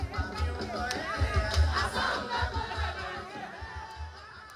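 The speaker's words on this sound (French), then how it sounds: "Les marcheurs se font entendre à travers artères et grandes places publiques de la ville." A street crowd of marchers at a busy city crossroads, a dense roar of many voices with chanting and shouts rising and falling, loud and close.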